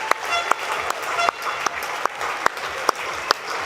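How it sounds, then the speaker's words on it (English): Spectators applauding athletes at a county team swimming championship in an indoor pool hall, broad sustained clapping with sharp isolated claps or knocks punctuating it at regular intervals, moderately loud throughout. "A round of applause for all of the athletes who have competed across both divisions today."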